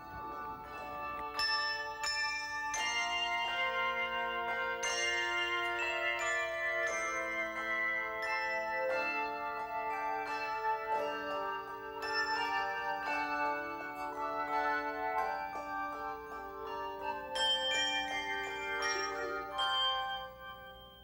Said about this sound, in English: Imagine the sound not of this one choir alone, but of many choirs ringing together.